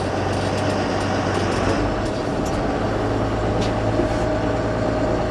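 A JCB Fastrac 185 tractor pulling away in medium gear, a loud steady engine drone with low rumbling tones and a shift in pitch partway through, no talk.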